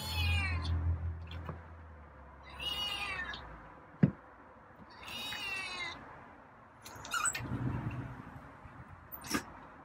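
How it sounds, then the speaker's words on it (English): A feral cat meows several times in a series of drawn-out, rising calls close by, with a sharp knock and faint rustling in between. "Wow, you're meowing."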